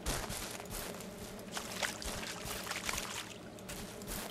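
Water poured out for pigs in the Ranch Simulator video game, a steady, continuous splashing pour that runs the whole time at moderate loudness, with no talk.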